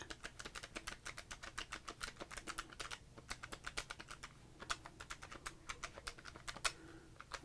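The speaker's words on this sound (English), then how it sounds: "We have our calculator to help us through it all, and just to get some nice clicky clack." Calculator buttons click in quick, crisp runs of close taps during sports card counting, with a brief pause partway through and no talk.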